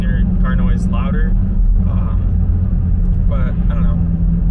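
Inside a VW Mk7 GTI with a muffler delete, a loud low engine drone and rumble fills the cabin steadily while a person talks over it.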